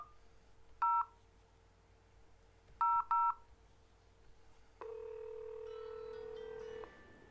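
Touch-tone keypad beeps from a VoIP softphone call, two short bursts of dialing tones followed by a steady two-second ringback tone, quiet and close with no talking.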